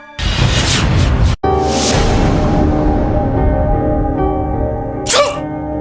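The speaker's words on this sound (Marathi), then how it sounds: "बघ तूही शिंकलीस ना" A sneeze in an Indian TV soap scene, a short sharp burst near the five-second mark, set against loud, continuous background music and sound effects.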